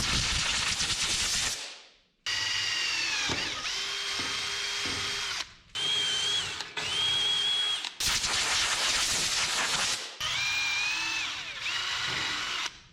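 A power drill bores quarter-inch holes while an LS-swapped S-10 gets rear axle and CalTracs work. It whines loud and close in several long bursts, with short pauses and pitch dips as the bit struggles.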